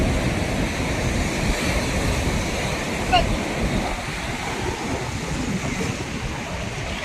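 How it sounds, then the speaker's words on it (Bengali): Sea waves roll in and break on the shore at Visakhapatnam, a close, continuous roar of surf mixed with wind buffeting that swells briefly midway, then eases slightly. "এদিকে একটা বিশাল ঢেউ আসছে, মনে হচ্ছে এখনই ভিজিয়ে দেবে"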